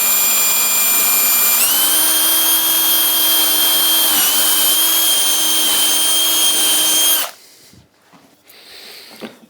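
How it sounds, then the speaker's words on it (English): A pillar drill runs through wood for a folding camping table, giving a loud, steady, high whine with a slight shift in pitch partway through, then cutting off abruptly to near quiet with a few faint knocks. "Again, pillar drill"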